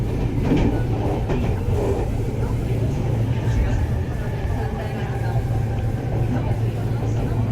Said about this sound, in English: Here you can see the bullet train.